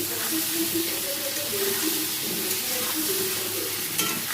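Turmeric being stirred into a small amount of hot frying oil in a pan, a steady close sizzle with faint scraping under it throughout.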